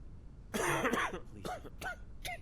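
Patient coughing in the video game Quarantine Zone, a burst of harsh coughs and throat-clearing followed by several short, clipped vocal hiccup-like sounds, close and fairly quiet.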